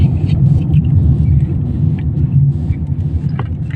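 Rumbling road traffic with cars passing close by on a busy street, a dense low engine drone that stays steady and loud with no talking over it.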